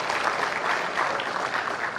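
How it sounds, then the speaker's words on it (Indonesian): Audience at a university interactive dialogue event applauding two guests, a loud, continuous roar of dense clapping lasting the whole moment. "Tepuk tangan buat mereka berdua"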